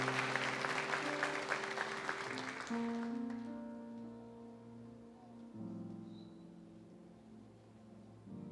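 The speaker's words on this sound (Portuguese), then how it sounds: "Aplauda a Jesus Cristo." A church congregation applauds Jesus Christ in clapping that starts dense and loud, thins out after about three seconds and fades, while sustained organ or keyboard chords play underneath.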